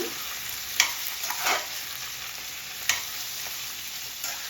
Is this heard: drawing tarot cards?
no